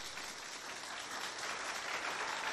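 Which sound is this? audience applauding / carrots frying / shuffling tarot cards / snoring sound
audience applauding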